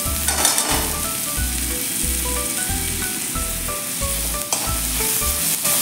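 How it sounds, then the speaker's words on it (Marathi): Ginger and garlic fry with onion in a hot pan for sprouted matki usal, a loud continuous sizzle with rhythmic spatula stirring strokes roughly every half second, close and alone without speech. "आलं लसूण पण 2 ते 3 मिनिट कच्चेपणा लसणाचा जाईपर्यंत परतून घ्यायचे आहे।"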